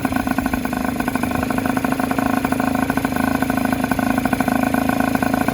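A Honda Urban Express NU50 moped engine with a reed upgrade idles steadily up close at about 1,600 to 1,800 RPM, a fast, even putter with a slight rattle, holding constant throughout.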